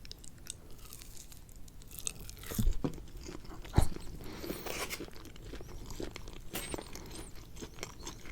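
Bites into a piece of smoked BBQ bark, a chewy crust of barbecued meat, giving close, soft crunching and wet chewing through the stretch, with two sharper bite crunches standing out among the steady mastication.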